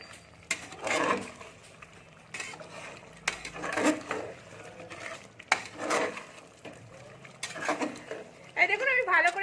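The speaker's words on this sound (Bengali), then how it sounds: "চিকেন মশলাটা দিয়ে আমি একটু ভালো করে ঘেটে নিচ্ছি" Chicken masala being stirred into a chicken curry in a pan, with intermittent scraping and clinking of a utensil against the pan in irregular bursts, close by, over a quiet cooking background.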